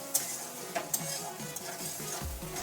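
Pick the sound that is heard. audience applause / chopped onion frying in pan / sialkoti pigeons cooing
chopped onion frying in pan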